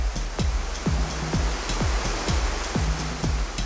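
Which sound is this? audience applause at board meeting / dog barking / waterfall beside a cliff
waterfall beside a cliff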